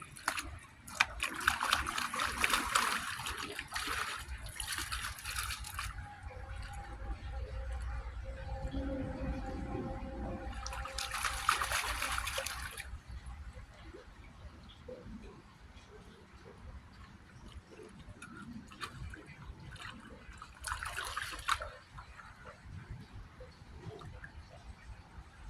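Water trickles and drains, a continuous low sloshing flow with bursts of louder gushing noise coming and going, and a voice speaks over it at times.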